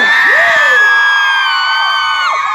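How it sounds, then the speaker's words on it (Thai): A loud concert crowd screams and shrieks together, high-pitched cheering and whoops sustained throughout, close and intense. "ขอเสียงกรี๊ดดังๆหน่อยเร็ว"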